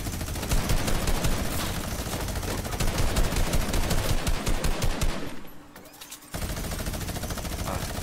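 Rapid automatic gunfire in the Fortnite video game, dense continuous bursts close and loud, briefly dropping away before firing resumes.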